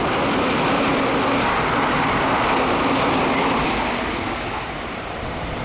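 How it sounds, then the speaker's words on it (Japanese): A Skyliner express train rushes past close by through Komuro Station on the Hokuso Railway, with a loud, steady roar and rumble that fades slightly toward the end. "この列車を追い越すのは、日中20分間隔で運行されるスカイライナーです。"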